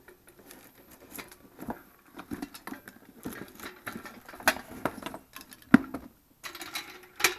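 An SGS 2.5-tonne high-lift trolley jack is pulled from its cardboard box, with scattered rustles, taps and scrapes of cardboard and packaging, faint and close, punctuated by a few sharper knocks.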